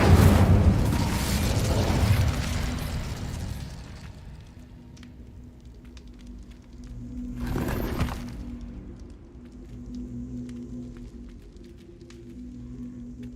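A fiery Incendio spell blast from Hogwarts Legacy erupts as a loud, roaring burst for the first few seconds, then fades into a low hum, with a second sharp whoosh near the middle.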